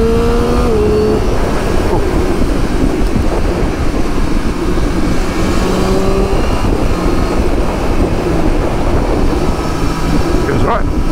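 Triumph Street Triple 765R motorcycle engine, a 2023 model, droning loudly and steadily while riding, pitch rising and falling through gear changes, with wind rush and a voice speaking over it.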